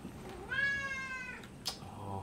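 A house cat lets out one long, drawn-out meow close by, followed by a brief sharp sound, over quiet background noise.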